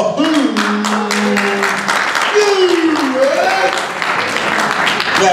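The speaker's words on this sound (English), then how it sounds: "Y'all put your hands together for Bugsy Calhoun." An audience at a men's spoken word event claps and cheers for a performer. The applause is steady and fairly loud, and a voice calls out over the crowd noise.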